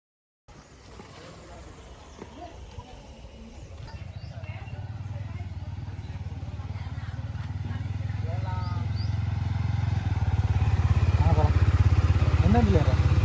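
A motorcycle engine starts and idles, then builds steadily in volume as the bike sets off, a low rumbling drone that grows louder and closer, with brief voices over it.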